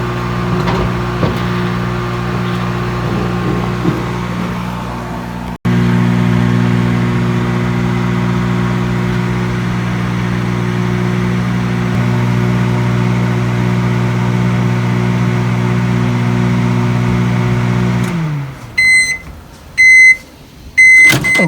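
An old microwave oven hums steadily for a long stretch while cooking eggs in an egg pod, then winds down and beeps several times in quick succession.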